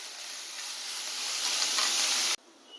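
Onion sautéing in a pan with ground ginger and garlic paste, a loud, steady broadband sizzle that swells slightly before cutting off abruptly, leaving a faint quiet remainder.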